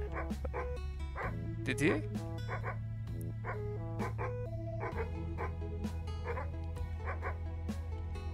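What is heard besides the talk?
dog barking in a horror video game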